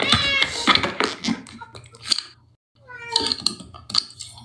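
A cat meows several times close by in a home, with drawn-out, wavering cries in two bursts separated by a brief silence, mixed with some nearby sounds.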